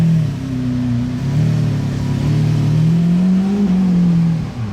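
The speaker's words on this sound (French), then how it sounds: "La résonance d'une Aventador, c'est impressionnant. À bas régime comme ça." A Lamborghini Aventador V12 rumbles at low revs with its exhaust valves open, a deep, loud, resonant drone heard close up, holding steady with small rises in pitch.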